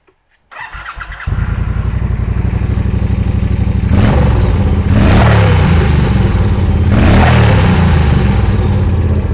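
Motorcycle fitted with a modified stock exhaust using a baffle starts up and idles with a deep, loud, close burble, then revs hard three times in quick succession, each rise and fall roaring over the steady idle.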